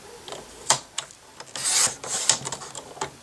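A paper trimmer slices through a sheet of card paper. A close series of short scraping, rasping strokes comes in irregular bursts, with one longer, louder pass in the middle and no talk.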